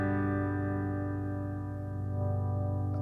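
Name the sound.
Reverend Sensei Jr electric guitar with bass contour control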